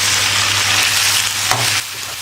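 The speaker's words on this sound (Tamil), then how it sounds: "வெங்காயம் நல்லா வதங்கிடுச்சு, தக்காளி போட்டுக்கலாம்" Onions, curry leaves and tomatoes sautéing in hot oil for vadakari, a loud continuous close sizzle with a low steady hum beneath and a brief scrape near the end.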